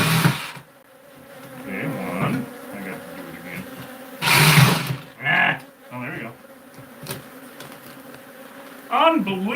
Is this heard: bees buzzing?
yes